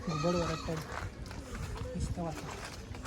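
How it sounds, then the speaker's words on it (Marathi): Goats bleat close by in wavering, nasal cries, several calls overlapping with people talking at the same time. "आरची बकरे पण आहे"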